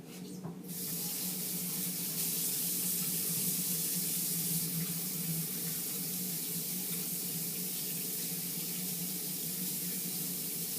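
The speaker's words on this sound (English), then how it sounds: "we always start off by washing our hands" Running tap water splashes over hands being washed before cooking, a steady close hiss of flow that starts abruptly and continues evenly for several seconds without speech.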